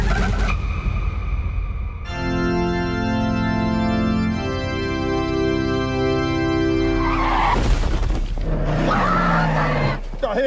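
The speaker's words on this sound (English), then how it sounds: "I hit the brakes." A car braking hard in a movie scene, its tires squealing in a long, loud, sustained skid that ends abruptly before clattering movement and noise follow.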